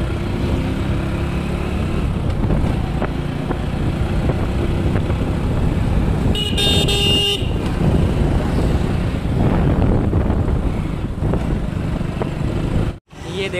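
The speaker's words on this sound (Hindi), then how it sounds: "ये देखो ट्रैफिक कितने बहुत ज़्यादा है यहीं पे।" Heavy road traffic produces a dense, constant rumble of engines close by. A brief horn blast sounds partway through, and the noise continues until a short dropout near the end.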